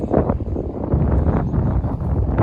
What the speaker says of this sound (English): it's already crazy windy